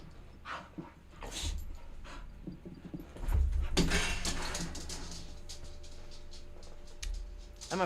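A lively dog pants, whimpers and scrabbles about close by, with thumping footfalls and rustling, ending in a short squeak.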